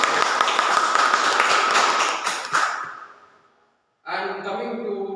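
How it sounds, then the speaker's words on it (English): Audience applause at a Toastmasters club meeting, a dense burst of clapping that fades out over a few seconds before a brief silence, then a voice starts speaking. "Big round of applause."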